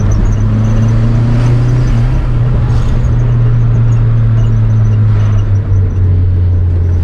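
Heard from inside, a turbocharged Chevrolet Celta pulls hard on a highway, its engine droning loudly and steadily with slight pitch shifts as it climbs through second and third gear.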